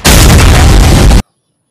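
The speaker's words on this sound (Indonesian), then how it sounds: "Ayo kita tes dulu, kita tembak ke situ ya." A toy M16 gun fires one loud, harsh, distorted burst lasting just over a second, close up, then cuts off abruptly into silence.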